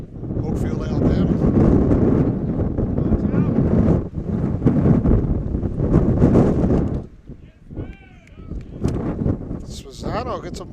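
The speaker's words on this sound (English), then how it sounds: "It is usually very windy out here at Oakfield, but it is especially windy today." Strong gusting wind buffets the microphone at a high school baseball field in Oakfield, a loud rumbling roar that rises and falls, with someone talking over much of it.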